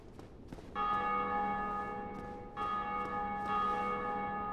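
A church bell rings in the video game Dark Souls, two loud resonant strikes a couple of seconds apart, each leaving a long sustained metallic hum.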